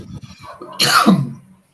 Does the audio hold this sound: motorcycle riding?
no